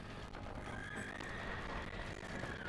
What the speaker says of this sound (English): Oh, you summoned a horse.